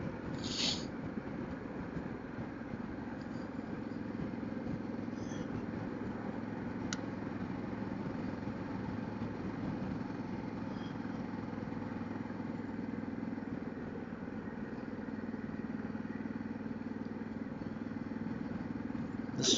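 Steady broadband road and engine drone from a heavy Harley-Davidson Pan America adventure motorcycle ridden on gravel country roads near Rocky Mount, Missouri, a constant rumble with wind noise and a few faint clicks, no talking.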